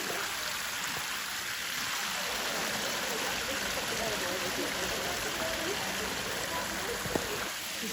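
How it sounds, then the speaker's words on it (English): A garden water feature gives steady, close rushing and splashing water, a constant bright hiss that runs the whole time with no pauses. "Look how beautiful this water feature is that she has in her garden"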